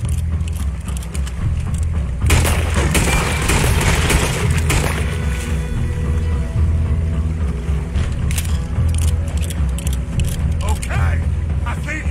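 Gunfire in the open-world western game Red Dead Redemption 2, a dense run of shots and booming impacts over a low rumbling score, with voices talking through much of the fight.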